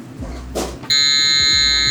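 An oven timer in a restaurant kitchen gives a loud, continuous electronic beep that starts abruptly and holds steady after a few soft handling knocks.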